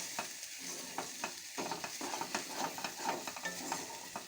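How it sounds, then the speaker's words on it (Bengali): Food frying and sizzling in a pan while being stirred, with a steady hiss and repeated scraping strokes at an even rhythm, close and moderately loud. "দিয়ে ভালো করে নেড়ে নেবো"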